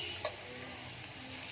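Aloo kababs frying in hot oil, a soft steady sizzle running evenly throughout with one brief clink near the start.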